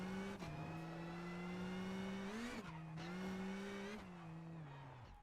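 A rally car on a dry gravel stage of the Acropolis Rally in Greece runs loud and close, its engine note holding steady, then dipping and rising sharply through gear changes with a brief tyre scrabble, before fading slightly toward the end.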